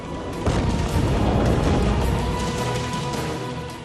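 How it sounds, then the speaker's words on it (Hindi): A deep explosion of tons of ammonium nitrate in Beirut, Lebanon booms out after a short moment and rolls on as a heavy, sustained rumble that slowly fades. "धमाका होते ही धरती फटने लगी, छत गिरने लगी, बिल्डिंग हिलने लगी"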